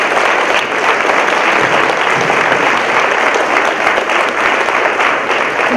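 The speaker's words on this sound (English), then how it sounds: "give your parents, teachers, and family here today a round of applause for all they do to support their children" A school fifth-grade promotion ceremony audience claps in loud, sustained applause, a dense even wash of many hands filling the hall without pause.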